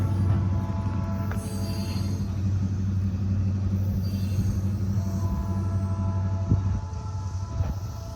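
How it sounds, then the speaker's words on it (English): Norfolk Southern locomotives working hard as they haul a heavy, long storage car train up a steep grade on a super elevated curve. A deep, loud, continuous engine rumble fills the whole stretch without a break, carrying faint wheel noise, and no one talks. "Did you hear those locomotives? They were really working hard."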